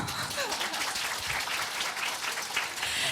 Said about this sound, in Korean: 여러분 박수 한번 주세요